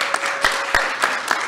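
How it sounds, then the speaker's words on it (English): Audience applause from a legislative meeting crowd, a brief close burst of hand claps with sharp irregular slaps over a bright hiss. "I'm just glad to see that y'all are clapping for me since I'm a legislator."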